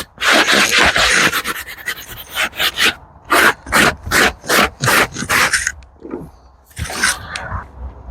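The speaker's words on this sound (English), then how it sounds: "wet vac with a strong pump on" Snap-on wet vac with a strong pump working over the seats of a 40-year-old low-mileage Ford Capri, giving loud rhythmic scrubbing and sucking strokes, several rapid passes at first and then slower, regular bursts close to the microphone.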